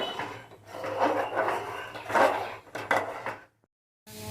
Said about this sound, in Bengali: বলতো নাড়তে হবে নাড়লে এটা হয়ে যাবে